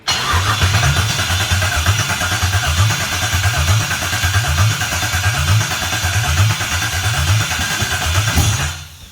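A loud LS1 engine running on the ground with no exhaust fitted, steady and up close, with a rhythmic, pulsing low-end chug that holds for several seconds before cutting off abruptly near the end.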